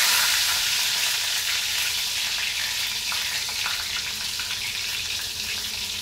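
Dried red chillies and spices, including mustard seeds, cumin and fenugreek, fry in hot oil with a steady, loud, close crackling sizzle that eases slightly over time.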